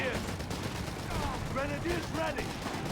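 Machine gun fire from a light machine gun section and commandos in Company of Heroes 3, a continuous rattle of rapid shots with explosions and battlefield noise mixed in, running under a commentator's voice.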